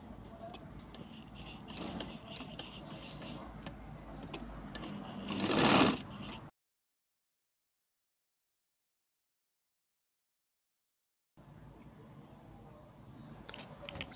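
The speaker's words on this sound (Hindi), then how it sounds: "बराबर करके आपने इधर को सिलाई लगा देनी है" A sewing machine runs in close, steady bursts while stitching a sleeve onto a kameez, with clicks and handling noise, a louder surge before a long silent gap, then resumes.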